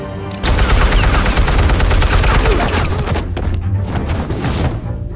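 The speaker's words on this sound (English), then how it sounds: "Falcone shot his own guy" Dense, loud automatic gunfire rattles almost without pause in Batman: The Telltale Series, a sustained close volley of rapid shots that fades slightly toward the end.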